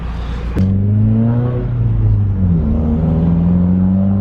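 A Subaru WRX fitted with an Invidia N1 race exhaust accelerates hard on a street. A sharp transient opens it, then a loud turbocharged engine note climbs through the gears, close and unbroken.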